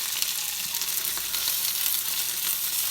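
Meatless sausages fry in a pan with a steady, bright sizzle and crackle, close and continuous, without any voices.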